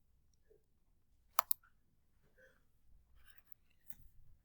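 Two quick, sharp mouse clicks close together on a Start button, crisp and near, followed by faint light tapping and handling noises in a quiet room.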